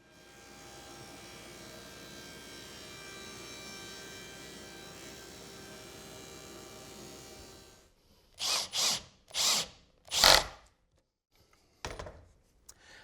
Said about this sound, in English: I want to cut a shallow but tall rabbet using a dado blade recessed in an auxiliary fence here